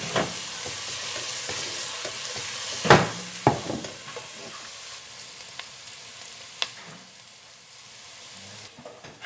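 Onions, together with garlic, sizzle softly in a pan, the light steady hiss broken by a few sharp scrapes and knocks of stirring, with no voices.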